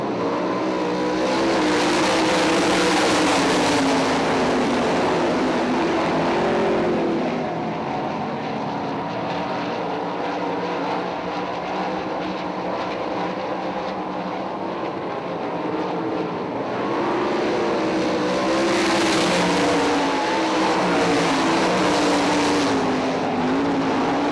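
Sprint cars race at full throttle on the I-96 Speedway dirt oval, a dense, continuous roar of engines that swells and dips as the pack passes by, loud and unbroken throughout the stretch.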